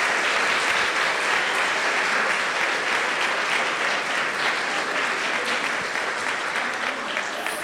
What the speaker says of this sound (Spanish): Y quiero que les demos un fuerte aplauso a todos por ese valor.